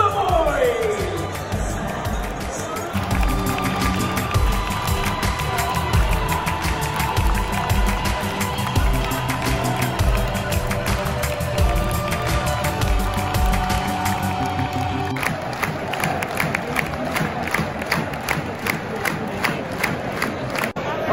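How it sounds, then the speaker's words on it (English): A football stadium crowd at a Bournemouth versus Manchester United match cheers and chants, a dense, continuous roar with rhythmic clapping and shouted chants all around, rising in places. "let's see you make some noise for the boys!"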